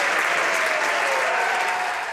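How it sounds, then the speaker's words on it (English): Members of Parliament in the House of Commons give a round of applause, a thick, steady roar of clapping that holds evenly and eases slightly at the end. "Rankin was greeted with a round of applause as he was led into the House by NDP leader Thomas Mulcair"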